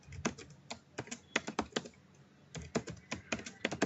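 Keys clatter on a computer keyboard as a password is typed into a command prompt, irregular bursts of close clicks with a short pause midway.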